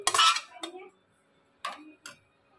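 Mango pulp is moved from one kadai into another with a metal spoon, giving a loud scraping clatter followed by a few sharp clinks against the pan.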